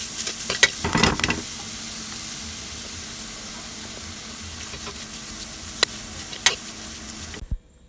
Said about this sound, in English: we're going to add our shredded carrots and we're going to stir them and allow them to saute in the pot for 2 minutes